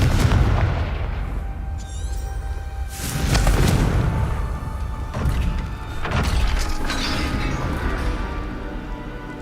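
A Confringo blast spell in the Hogwarts Legacy video game sets off heavy booming explosions, with several loud rumbling blasts and crackling debris over a constant low roar of game ambience.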